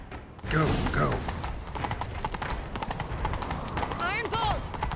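Horse hooves clip-clop in a rapid gallop across ground in The Witcher 3, loud and close, with shouted voices and a horse's whinny over the hoofbeats.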